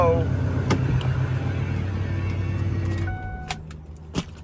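A Ford 6.4L Powerstroke diesel engine shutting off after idling to warm the oil, its steady low rumble running then fading out around three seconds, followed by a few faint clicks.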